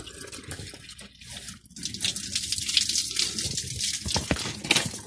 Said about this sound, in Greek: Βάζουμε λοιπόν εδώ το λάστιχο να γεμίζει.